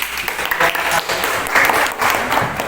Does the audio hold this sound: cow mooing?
no